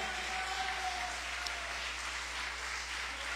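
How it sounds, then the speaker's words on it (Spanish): A church congregation claps together, a steady, fairly faint wash of applause filling the room without a break. "Dele un aplauso a Dios por usted."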